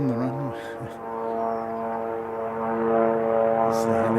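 A small helicopter passes along an airfield runway, its steady droning engine hum with strong harmonic tones holding loud and close throughout, swelling slightly toward the end.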